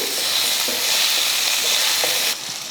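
Onion, garlic and tomato sauté in a pan for a peanut chutney, giving a steady close hiss of frying with a few soft stirring scrapes and a slight drop in level near the end.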